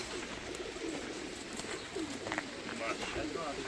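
Pigeons coo softly in low repeated calls on an open rooftop in the evening, against a noisy background, with faint voices nearby.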